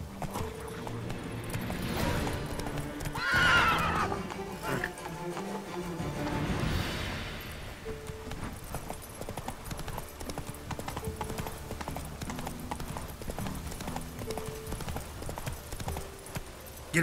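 Horse hooves clip-clop steadily in The Witcher 3 video game, with a brief neigh early on, carrying through the whole stretch at moderate loudness over faint game ambience.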